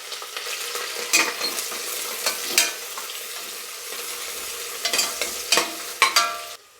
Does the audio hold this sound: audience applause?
no